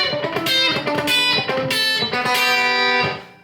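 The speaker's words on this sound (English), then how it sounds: "all chicken picking is it's a style of hybrid picking that allows us to pluck the strings with a certain kind of attack and feel" Electric guitar played in chicken-picking style, hybrid picking with pick and fingers, giving a quick, snappy lick of plucked notes with sharp attacks and short phrases, loud and close with no talking.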